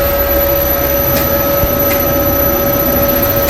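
Wood lathe turning a giant vase blank at low speed, around 120 to 130 rpm: a loud, steady mechanical hum with a constant whine, unbroken throughout and no talk.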